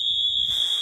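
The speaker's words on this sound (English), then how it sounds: "Emergency fire alarm, 6 a.m. at hotel." A hotel emergency fire alarm plays back as a recording, a steady piercing electronic tone holding loud and unbroken throughout, with a faint hiss of noise beneath.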